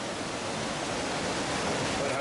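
A loud river rushing past nearby, heard as a steady, even broadband roar of flowing water that fills the whole stretch without pause.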